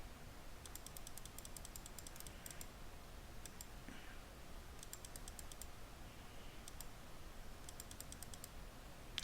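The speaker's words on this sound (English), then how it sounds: "So I'm going to type" Short bursts of light, rapid clicking on a computer keyboard come in three clusters over a steady background hiss, quiet and close, with no talking.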